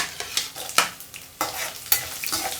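Garlic and dried red chillies fry in a pan with oil for a lady's finger fry, as a steady loud sizzle is broken by sharp scraping stirs of a utensil, about one every half second.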